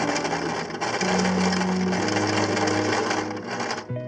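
Sewing machine stitching the strap of a Skechers Reggae sandal, a close, continuous whirring run with a steady motor hum that shifts pitch midway and stops abruptly near the end.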